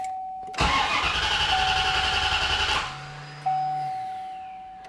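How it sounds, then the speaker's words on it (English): A C4 Corvette engine cranks and catches, roaring to a loud steady run for a couple of seconds before cutting out, followed by a brief electronic chime and a fading tone. "I'm gonna go ahead and start the car"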